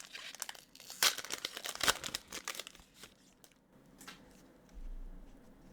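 A Sorcery: Contested Realm Beta trading card pack being torn open, with close crinkling foil wrapper, two sharp tearing bursts, then softer rustling and card handling.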